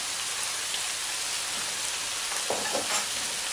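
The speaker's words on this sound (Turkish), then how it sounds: "kabakları da katıp yaklaşık 3-4 dakika yine kavuruyoruz" Sliced zucchini sautéing in a pan for a creamy chicken zucchini pasta, a steady dense sizzle with faint stirring scrapes, continuous and close.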